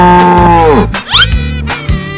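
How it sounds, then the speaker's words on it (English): Cow mooing sound effect in an animal cartoon: a loud, close, drawn-out moo followed by a second shorter bellow, alone with no talk. "Cow."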